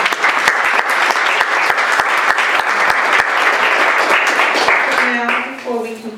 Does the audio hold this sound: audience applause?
yes